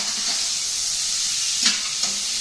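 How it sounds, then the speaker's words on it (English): White wine hitting a hot pan to deglaze it, a steady loud sizzle and hiss throughout, with a couple of brief sharper spits of steam near the end and no talking. "Now I'm going to drop that white wine."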